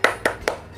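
A school class claps together in a rhythmic spirit-clap cheer, three sharp group claps evenly spaced in quick succession, close and fairly loud with no talking.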